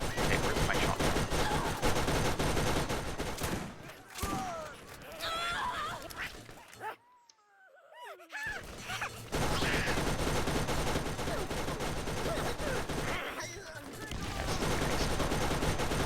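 Heavy gunfire from a mounted gun in the shooter game Borderlands roars almost nonstop and loud, with a brief lull in the middle before the firing resumes.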